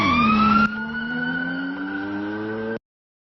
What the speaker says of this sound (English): You put in the prompt sirens and a humming engine approach